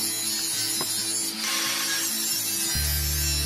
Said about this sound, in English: and I cut them to the right length.